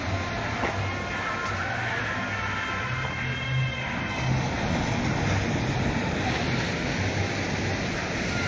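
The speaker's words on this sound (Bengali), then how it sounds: "জলের আওয়াজ শুনতে পাচ্ছেন তো" Sea waves wash steadily along Digha beach in a constant broad roar of surf, with no break and no talking.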